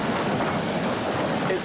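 Heavy rain pours down steadily in remote grizzly bear country, a dense continuous wash of close drumming with no break.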